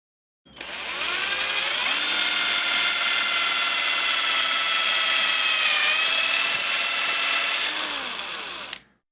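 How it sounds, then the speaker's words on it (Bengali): A cordless drill running on a homemade battery bores into a piece of wood, its motor whining steadily for about eight seconds at close range with a slight pitch dip partway through and no talk. "এখন আমি এই কাঠের টুকরোতে ড্রিল করব।"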